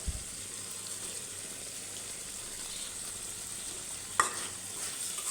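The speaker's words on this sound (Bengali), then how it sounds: "আর এখন মাছগুলো আমি দিয়ে দেবো এইভাবে। আর দিয়ে দেবো এইখানে কিছুটা টমেটো।" Fish and tomato go into a frying pan over already-cooked masala, giving a steady close sizzle with a sharp splash and louder hiss near the end.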